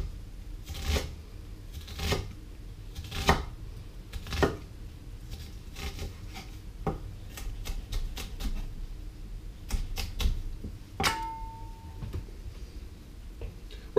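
A knife finely dices vegetables on a cutting board for a ragu alla Bolognese, producing crisp, close, irregular taps that come quickly and continue for over ten seconds.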